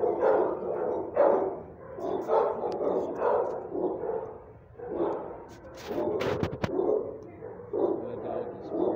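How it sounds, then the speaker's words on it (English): A small shelter dog in a kennel area barks repeatedly in short bursts, close and fairly loud, with soft whimpers and a person talking gently between the barks. "Good dog, Sparta."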